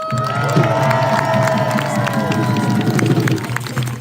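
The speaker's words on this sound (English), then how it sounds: "Everybody give yourselves a round of applause." A protest crowd at Foley Square claps and cheers: lively mixed clapping and shouting, close and fairly loud, with voices in the crowd.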